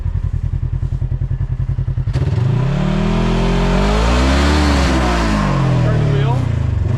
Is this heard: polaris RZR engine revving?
yes